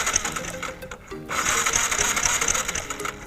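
A Yamaha MX King motorcycle that has stalled and won't run, its electric starter cranking in a fast, steady whirring buzz close by, pausing briefly before cranking again for a longer stretch.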